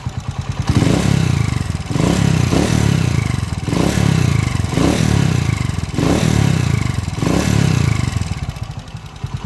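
A motorcycle engine with a noisy timing gear, running before a 200cc conversion, throbs close and loud in repeated surging revs with a rattling mechanical clatter pulsing through each burst.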